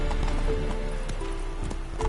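Roach the horse gallops in The Witcher 3, with rhythmic hoofbeats clip-clopping close and steady over a continuous ambient game background.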